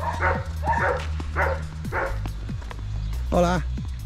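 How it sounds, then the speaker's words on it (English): Dogs bark repeatedly at a house in Spain, a handful of near, evenly spaced woofs followed by a higher yelp, heard over a low engine hum and faint voices. "Dog's barking."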